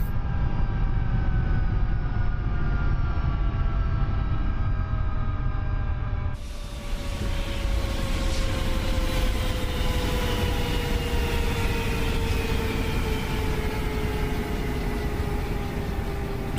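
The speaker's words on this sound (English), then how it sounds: "So cool, the coaxial rotors on the Ka-50." Steady drone of the Ka-50 Black Shark's coaxial rotors in DCS, a continuous whine and rumble with sliding tones that shift abruptly partway through.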